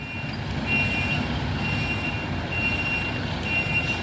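A heavy truck grinds up a steep hill, giving a steady, dense engine rumble throughout, with a faint high beeping tone now and then in the background.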